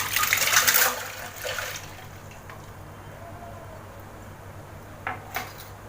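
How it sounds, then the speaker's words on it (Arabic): Cold water poured into a blender jar for lemon ice cream, a splashing gush up front that tapers off, followed by quiet and a couple of faint clinks near the end. "نحط الميه الساقعه الاول،"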